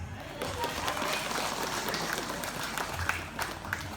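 An audience at a Maulid celebration in an Islamic boarding school claps together, a dense, even patter of many hands that continues without a break for a few seconds.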